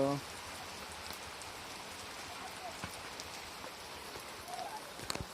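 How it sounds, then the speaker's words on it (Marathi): Steady rain falls throughout, a dense hiss of drops on a surface with a few louder nearby drips and taps toward the end. "पाऊस भरपूर आहे का वर."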